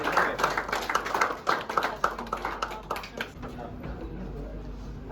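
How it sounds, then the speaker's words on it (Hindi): An audience in a gym claps during a CPR and first-aid training session, with irregular, loud hand claps that thin out and fade to a low murmur toward the end. "तो इसके लिए एक जोरदार तालियां होनी चाहिए।"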